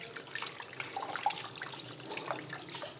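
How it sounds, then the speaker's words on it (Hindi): Water runs steadily from a tap in a washroom as feet are rinsed up to just above the ankles during wudu, a continuous close splashing trickle with no talk. "तो इस तरह ये पाँव धो लें"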